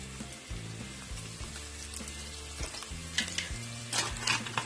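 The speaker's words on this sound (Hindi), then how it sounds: "ये मैं 2 टेबल स्पून के करीब ये बटर इस पैन में डाल रही हूँ।" Carrygold butter, about two tablespoons, melting and sizzling in a pan, a steady close hiss with low hum and a few faint clinks toward the end.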